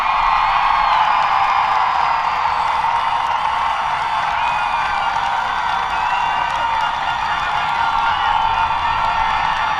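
A large crowd at the 2023 East Hartford High School graduation cheers, whoops and applauds without letup, a dense, steady roar of clapping and shouting voices that fills the space at full volume.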